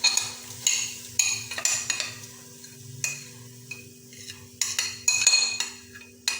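Chopped onions tipped onto beef in a cooking pot for beef karahi, with sharp clinks and scrapes of a metal utensil against the pot, repeated close, over a faint low simmering background, no speech.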